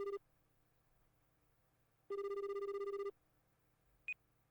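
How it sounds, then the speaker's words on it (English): Phone ringtone in the Ace Attorney Spirit of Justice video game: a short tonal ring, a longer steady ring burst about a second long, then a brief high blip, each clear against a quiet background. "Is that Apollo's ringtone?"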